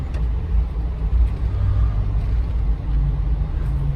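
Steady, low cabin rumble of a Jeep Wrangler Unlimited cruising on the road, a continuous engine and tire drone heard from inside with no talking.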